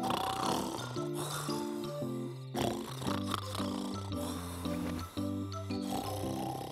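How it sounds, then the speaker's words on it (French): A cartoon grandpa snores loudly in rhythmic, exaggerated snorts and grunts, repeated several times over a bedtime scene with soft musical tones underneath. "Papy, tu ronfles trop fort."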